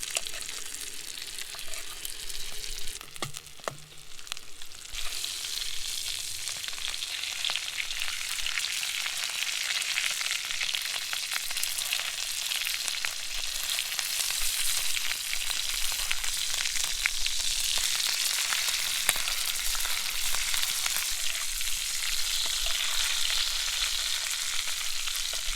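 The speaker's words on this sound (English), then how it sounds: "Just baste it with butter." A trout fries in butter in a pan at a camp, giving a long, even sizzle that stays close and fairly loud, broken now and then by faint clicks of basting.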